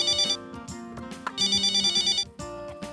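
A telephone rings in a family home in a Hindi television sitcom, with repeated electronic ring bursts broken by short pauses, loud and close, with no talking over it.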